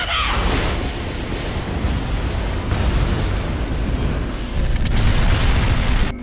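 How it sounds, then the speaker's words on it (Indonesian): A large explosion from a missile bombardment in an animated battle, heard as a loud, continuous roaring rumble that fills the whole stretch without letting up. "ledakan besar"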